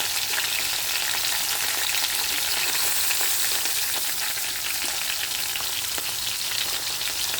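Asafoetida, green chillies and curry leaves frying in hot oil, a steady dense crackling sizzle that stays loud and even throughout with no talk.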